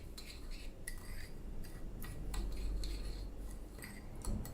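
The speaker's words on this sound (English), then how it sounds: "And then you're just meant to stir this around." A spoon stirs red food colouring into a wet edible glitter mixture, clinking and scraping against the bowl in quick irregular strokes, faint and close with no voices.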